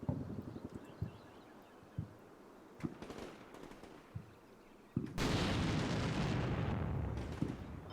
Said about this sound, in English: So we don't want to run through our own smoke bombardment, that's not smart.